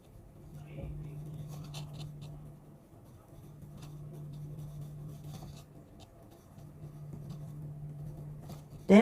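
A pen scratches across paper in short, faint strokes while a math problem is worked out, sitting over a steady low electrical hum.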